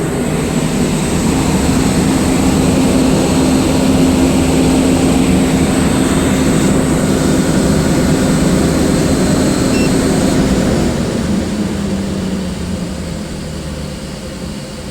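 An air compressor running loudly with a steady, dense mechanical roar and hum, close by, then winding down and fading in the last few seconds as it shuts off.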